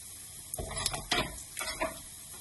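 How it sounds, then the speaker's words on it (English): Minced garlic being stirred and frying gently in a pan over low heat, a soft sizzle broken by a few scraping stir strokes. "you add into there your minced garlic. So I'll just slide that into the pan there"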